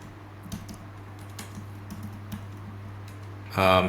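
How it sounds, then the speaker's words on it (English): Keys clatter on a computer keyboard during Python coding, a handful of sparse, close clicks over a steady low hum, ending in a louder brief burst. "I pressed my tab button on my keyboard"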